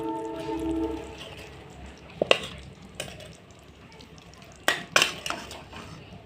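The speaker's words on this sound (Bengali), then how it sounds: "এখন আমি বেগুনগুলো নামিয়ে নেব।" Fried eggplant slices for a vegetarian Bengali begun sundori are lifted out of the pan, giving a few sharp metallic clinks and scrapes of the utensil against the pan over a soft background hum.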